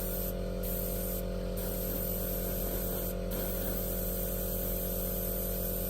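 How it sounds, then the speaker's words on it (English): A steady hiss of spray paint applied in light coats to an F4U-1A model fills the clip over a constant electrical hum, with brief moments where the spray sound thins out. "So I'm just gonna spray it on light coats and slightly circular motions from above."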